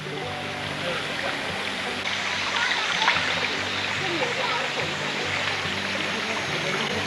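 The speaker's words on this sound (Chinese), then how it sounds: "哦，清凉的溪水。" Cool stream water at a riverside park rushes and splashes steadily, a broad continuous wash filling the whole stretch, with faint voices of people playing in the water mixed in.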